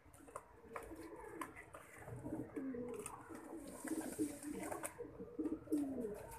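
Pigeons coo steadily in repeated low, throaty phrases, close and moderately loud, with soft chirps and background rustle; the birds are pet or kept pigeons, a mix of males and females.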